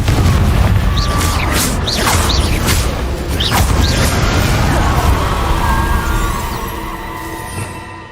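A Confringo fire blast spell erupts in Hogwarts Legacy, a dense rumbling burst with swishing, crackling magic effects over a loud, busy game soundscape.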